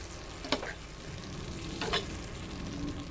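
Black bean and corn dip is stirred in a pan on the stove, a soft continuous scraping and gentle sizzle with a couple of sharper utensil scrapes, fairly quiet overall.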